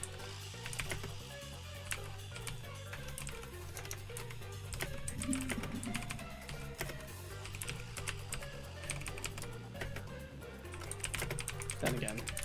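Rapid, uneven clicking of keys on a computer keyboard continues throughout, close and steady, with a low hum, game audio and a voice speaking intermittently during a live game stream.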